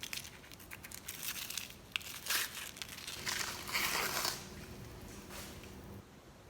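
Dry papery skin being peeled from a large sweet onion with its ends sliced off, a close series of soft crinkling and tearing rustles, louder in the middle stretch, with no talking.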